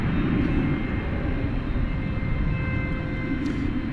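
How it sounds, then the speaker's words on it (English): An American Airlines Airbus A321 arriving at DFW Airport at night from Ontario, California, produces a continuous low jet roar, fairly distant and steady throughout. "American 2635 is coming in from Ontario, California"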